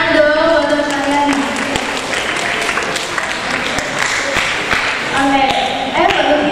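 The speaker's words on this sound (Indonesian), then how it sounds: "Tepuk tangan dong buat teman sekalian" Students applauding in a school classroom during a library literacy session, a steady wash of clapping from the group lasting several seconds, with voices mixed in underneath.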